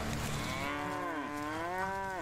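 A cow in the Medieval Dynasty video game gives a long, loud, steady moo that rises and falls in pitch, heard alone and close up.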